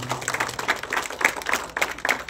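An audience at a grotto opening ceremony in Kotapadu claps to welcome fellow teachers, producing a steady patter of many hands applauding at moderate distance.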